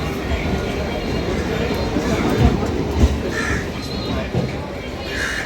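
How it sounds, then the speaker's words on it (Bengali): A Kolkata Chakrarail suburban train bound for Majerhat pulls away, a continuous rumbling rattle of wheels and carriages with a few soft thumps and faint higher cries overhead, with people's voices mixed into the steady noise. "তো এই মাঝেরহাট যাওয়ার ট্রেন ছেড়ে দিল।"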